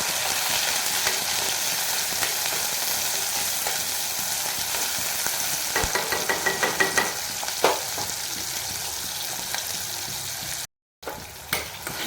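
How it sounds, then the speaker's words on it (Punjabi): Continuous crackling sizzle of a spice tempering for dal in hot oil, with a cluster of sharper pops near the end, then a brief gap before the frying resumes. "ਤੋ ਜਸਟ ਤੇਲ ਗਰਮ ਹੋ ਗਿਆ ਲਾਈਏ ਜੀ ਤੜਕੇ ਛੜਕੇ"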